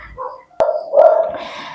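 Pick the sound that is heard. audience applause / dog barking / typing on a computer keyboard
dog barking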